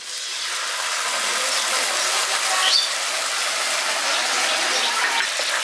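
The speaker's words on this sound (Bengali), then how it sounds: "এবার সসটা দিয়ে দিচ্ছি।" Sauce is poured into a pan of fried mushrooms for chili mushroom, and a steady, loud broad hiss of sizzling fills the whole stretch, close and continuous without any talk.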